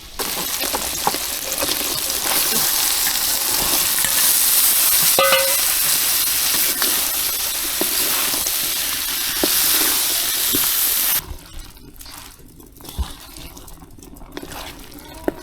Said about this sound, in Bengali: রাজমাটা আমার কষানো হয়ে গেছে